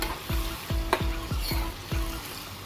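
Tomato gravy frying in tempering oil in a pan for a tomato yogurt chutney: a continuous close sizzle with a regular series of about six stirring scrapes, each a dull sweep, and no voices.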